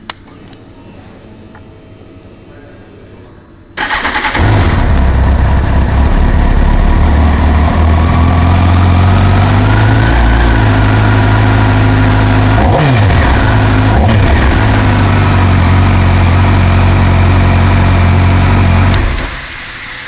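A Kawasaki ZX10R sport motorcycle fires up after a few seconds of low background hum, then idles loudly and steadily up close, with a brief rise and dip in pitch near the middle before settling back.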